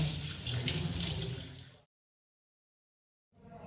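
Tap water runs loudly as four clay cups are washed in a kitchen sink, a steady splashing rush that cuts off abruptly into silence, then resumes briefly at the end.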